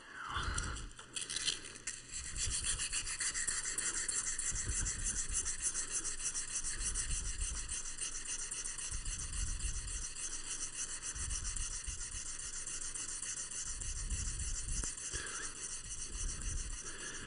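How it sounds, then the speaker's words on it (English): Hand sanding of a niello-inlaid metal piece makes repeated raspy scrubbing strokes, close and steady, over a constant high-pitched hum in the background. "let's do some sanding and see where that gets us"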